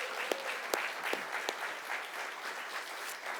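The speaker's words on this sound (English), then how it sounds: "can we give them a round of applause?" Audience applause at an award presentation, a steady wash of clapping from a crowd in a room with a few sharper individual claps standing out near the start.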